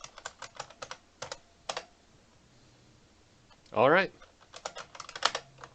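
Someone types a password on a computer keyboard in short bursts of clicky keystrokes separated by pauses, with a louder clattering flurry midway; a voice speaks briefly.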